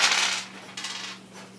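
Four dice are rolled during a game of Flapjacks & Sasquatches, two short bursts of bright clattering close by, the second softer and fading away.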